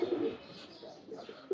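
A Betera Golden pigeon coos softly and low, in a short murmuring phrase, close by with no talking.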